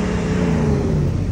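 Steady roar of heavy road traffic on a street near the Jeddah seaside in Saudi Arabia, a continuous loud engine hum with cars passing close by and no talking.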